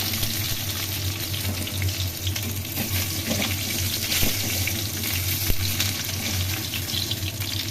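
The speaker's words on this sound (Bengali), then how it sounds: "তেলের মধ্যে শুকনো লঙ্কা জিরে ফোড়ন দিলাম" Dry chillies and cumin sizzle in hot oil with a close, steady, crackling hiss that carries on throughout, with no talking.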